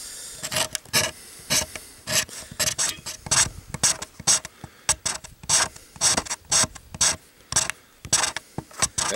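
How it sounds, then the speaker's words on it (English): A knife scraping a plastic guitar pick into shavings for a fire-starting challenge gives a close, steady rhythm of short, rasping strokes, repeated quickly and evenly with no talking. "take your guitar pick and you're going to scrape some of the guitar pick into little shavings"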